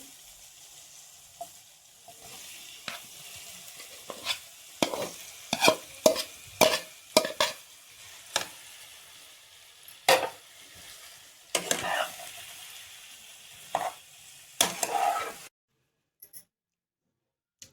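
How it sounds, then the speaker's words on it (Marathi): Boiled potatoes stirred into a fried spice paste in a pan for vada pav filling, sharp scraping and clacking strokes of a spoon in irregular bursts over a soft sizzle, then silence at the end. "उकडलेले बटाटे टाकून सर्व मिक्स करून घ्यायचे आहे."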